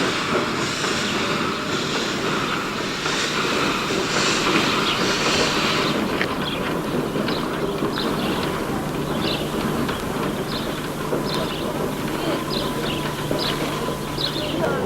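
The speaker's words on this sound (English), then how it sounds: "At the rear of this train, an unusual-looking bogie carriage." A Spanish narrow gauge steam train rolls past with a bogie carriage at the rear, a loud steady rumble followed by rhythmic clickety-clack of wheels over rail joints as the cars go by.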